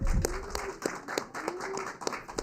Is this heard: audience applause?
yes